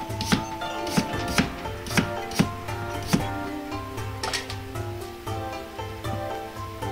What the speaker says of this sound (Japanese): 人参は斜めにしてスライスしてから並べ千切りにします。